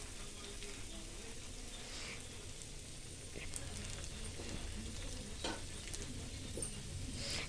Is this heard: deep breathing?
no